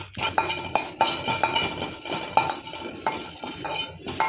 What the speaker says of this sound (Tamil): நல்லா சவுண்டு வரணும் முறு முருன்னு வர்ற வரைக்கும் வறுத்துக்கலாம்